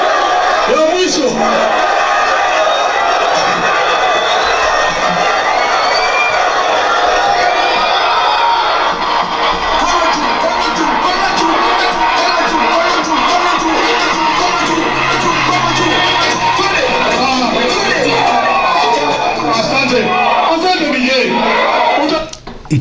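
A large crowd at a Sifuna and Babu political rally in Busia, Kenya, makes a dense, steady roar of voices and cheering that stays loud throughout, with chanting mixed in.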